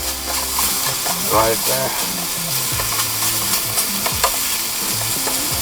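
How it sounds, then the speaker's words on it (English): Bacon frying in a titanium pan from a three-piece cooking set, with a loud, steady sizzle and crackle up close while a voice speaks briefly over it. "Bacon is releasing a nice fat"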